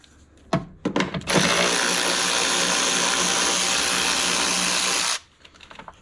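Power ratchet on 10 mm screws in a 2021 Ford Bronco during a trailer hitch install: a couple of short clicks, then about four seconds of loud, steady buzzing drive close by before it stops.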